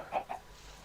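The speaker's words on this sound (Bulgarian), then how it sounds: "това пиле там както седи не ми харесва" A chicken in the video game Minecraft gives two quick, faint clucks in under a second, with near silence after.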